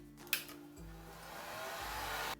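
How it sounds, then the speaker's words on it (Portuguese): A heat blower, used as an alternative to a hair dryer, runs steadily, drying a decoupage craft bottle; a brief click starts the continuous whooshing airflow, which holds fairly loud and alone for about two seconds before cutting off. "Eu vou utilizar um soprador com bastante cuidado, mas quem tiver um secador também pode utilizar."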